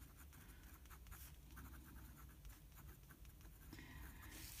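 A Lanbitou 3059 fountain pen with an EF nib, written in reverse, drags scratchily across paper in a quiet, close run of short, rough strokes, with no other sound.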